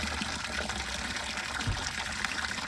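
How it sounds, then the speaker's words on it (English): A small garden waterfall flows with a steady, close rushing and trickling of water, continuous and unbroken, with no voices. "we have a really great little waterfall here to go along with our other waterfall"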